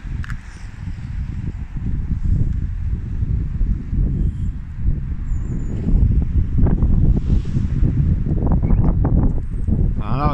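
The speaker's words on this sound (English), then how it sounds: "I know this wind is absolutely mad. The wind has just gone crazy." Strong, gusting wind roars into the microphone during a walk around a church and town, with heavy low buffeting throughout and a voice talking under it.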